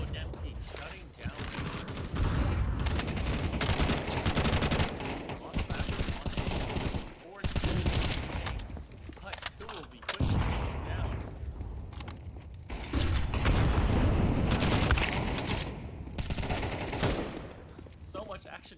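Rapid gunfire from a Counter-Strike esports match, bursts of shots and fusillades packed together, under continuous excited commentary with game effects throughout.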